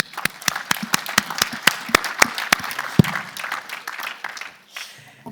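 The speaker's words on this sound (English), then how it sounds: "So a big applause." Audience applause of moderate size at a conference summit, a burst of clapping with sharp individual claps standing out, tapering off toward the end.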